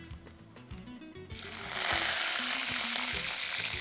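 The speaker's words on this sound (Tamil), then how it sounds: "இப்போது வெங்காயத்தை போட்டோம்." Onions land in hot oil already holding mustard seeds and curry leaves as a Tamil kolrabi masala is cooked, setting off a sudden loud, steady sizzle after a moment of quieter crackling.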